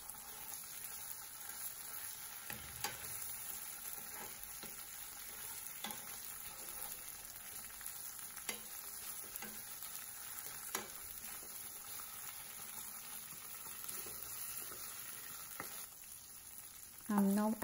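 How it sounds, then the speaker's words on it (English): Chopped onions frying in a pan for yam sambar, giving a faint, steady sizzle with scattered light clicks and scrapes of stirring, and a louder clatter right at the end. "now let's go ahead and add chopped onions, fry them all"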